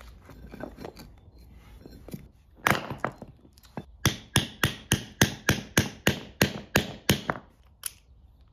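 Sharp metallic hammer blows striking to free a car suspension bushing, close and loud, about a dozen evenly spaced strikes after some lighter shuffling and tapping at the start.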